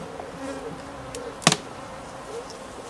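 Honeybees buzzing around an open beehive with a queen excluder and feeder, a soft steady drone throughout with one brief louder close pass midway.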